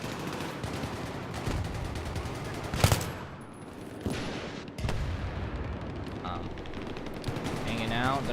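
Rifle gunfire in Battlefield 3 on the Operation Metro map: dense rapid shots and bursts amid a loud, busy battle din, with a few sharper cracks and booms standing out.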